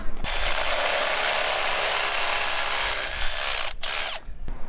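A power drill running steadily and loud for about four seconds while drill bits are swapped during dodgy modifications on a four-wheel-drive at an outback beach, stopping abruptly near the end.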